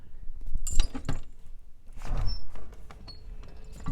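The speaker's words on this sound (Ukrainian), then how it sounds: "А виявляється, ці двері відчиняються," A door being opened indoors, with clunks, rattling and a glassy clink followed by a scraping slide and a short high squeak, all heard alone with no voices.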